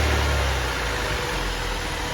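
A Honda Civic engine idles steadily after a fuel filter change, a continuous close, low rumble with no talk over it.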